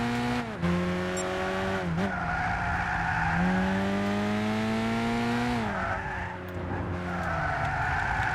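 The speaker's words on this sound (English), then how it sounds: "there shouldn't be giving me any skidding noises there at all" Tires squeal in long, continuous skids over a steady engine roar in Gran Turismo 6, the pitch bending as a Renault Clio slides through turns.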